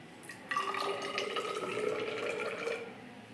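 Water pours briefly into a small measuring jar, a light trickling stream of about 35 millilitres with a rising tone over a few seconds, close by and fairly quiet.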